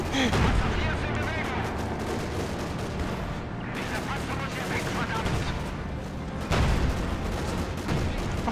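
Anti-tank gun shelling a tank in the Company of Heroes 2 strategy game, repeated heavy cannon booms and gunfire bursts in a dense, loud battle din.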